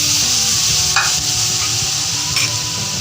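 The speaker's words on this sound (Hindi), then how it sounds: "इसको अच्छे से हम हिला देंगे, मिक्स करेंगे" Masala is stirred in a pan with soy sauce and milk for a chicken croissant filling: a steady, close frying hiss runs throughout, with two brief scraping strokes of the spoon.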